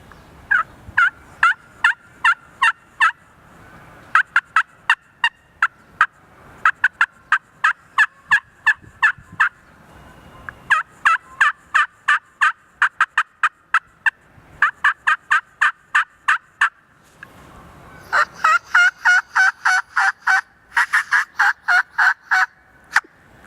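A hunter imitates an aggressive boss hen turkey, first on a slate call and then on a mouth call, producing long runs of loud, rapid, raspy yelps in repeated series with short pauses between, harsher in the final stretch.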